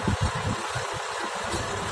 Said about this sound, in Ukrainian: Це мотор робить на холостих оборотах.